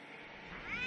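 A cat's rising meow, used as a sound effect in a Hindi horror story as the cat jumps from a window ledge, comes in fairly faint toward the end over a steady background wash.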